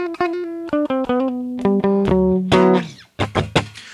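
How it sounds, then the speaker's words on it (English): Electric guitar recorded through an audio interface plays a quick run of picked notes and chords, loud and close, ending in a few sharp strums with a brief gap. "I have my guitar, which sounds like this."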